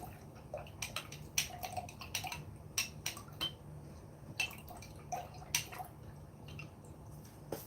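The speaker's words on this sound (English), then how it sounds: "let me wash this brush out." A paint brush is swished and rinsed in water, producing irregular close drips, squishes and small splashes over a low background hum.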